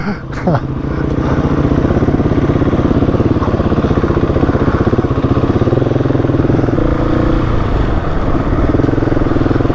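A 350 trail motorcycle climbs a rough hillside track, its single-cylinder engine chugging loud and steady at low revs, with a brief clatter near the start and slight shifts in pitch as it works up the slope.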